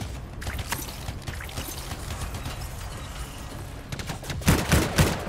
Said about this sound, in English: Dude, I'm adjusting my settings. Stop shooting me.